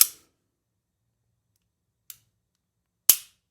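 Three sharp, dry clicks from the trigger of a Smith & Wesson Bodyguard 2.0 pistol, spaced apart with silence between, the middle one faint and the last loudest.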